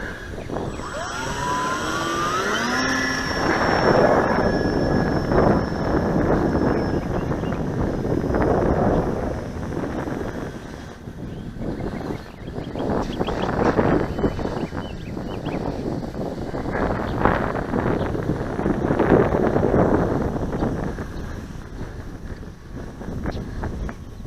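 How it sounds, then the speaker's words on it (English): Gusty wind buffets the microphone outdoors at a park where an electric E-Flite Apprentice S15e model plane is flown, giving loud, uneven low rumbling surges throughout, with a thin motor whine early on. "It's pretty gusty. It may be in the teens. I may have underestimated the wind"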